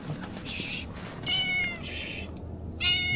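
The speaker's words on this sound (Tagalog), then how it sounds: "Meron tayong nakitang pusa rito." A cat meows several times on a roadside on the way up to the Mount Samat National Shrine in Bataan, the high, drawn-out calls coming close and clear in three or four bursts over low outdoor background noise.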